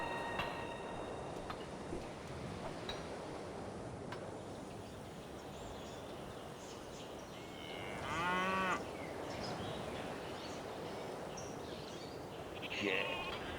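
Sheep in the Civilization V video game: a couple of mid-distance bleats, one clear around the middle and another near the end, over a steady ambient game background with no talk.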